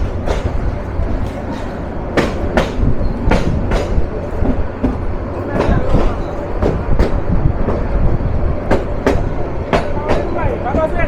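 The Kishoreganj Express rolls through Bajitpur railway station, a steady loud rumble of wagons with repeated sharp wheel clicks and clatter across the whole stretch, with voices faint beneath.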